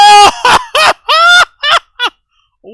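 A cartoon bird in an anime episode honks loudly, letting out about six close, nasal honks in quick succession that grow shorter toward the end, with nothing else audible.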